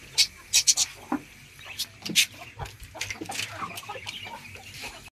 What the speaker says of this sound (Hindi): हमारी मुर्गी ने आते ही खाना शुरू कर दिया